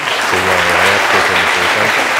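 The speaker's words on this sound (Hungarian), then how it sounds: "És egy ennél hatalmasabb taps kíséretében kérem." Audience applause during a Hungarian opening lecture, dense steady clapping that fills the whole stretch at full strength, with a voice speaking briefly over it near the start.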